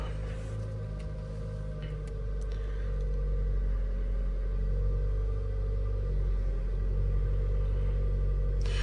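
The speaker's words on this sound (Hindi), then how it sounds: "ये होगी अपनी गाड़ी स्टार्ट" Toyota Hycross engine started by push button, settling into a low, steady idle rumble that swells slightly after a few seconds and holds alone, with no voices.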